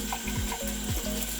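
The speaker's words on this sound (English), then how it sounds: "you just need to run it under running water" Tap water runs steadily into a sink as a Norwex mop pad is wetted beneath it, a close, continuous splashing rush with small shifts as the pad moves in the stream.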